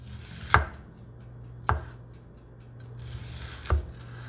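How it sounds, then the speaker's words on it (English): A knife slices white onion thin on a cutting board, landing in three distinct, sharp, close chops spaced about a second apart over a quiet background. "now we have some white onion. Cut these nice and thin."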